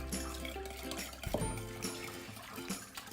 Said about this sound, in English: Now that we got all that, go ahead and continue whisking.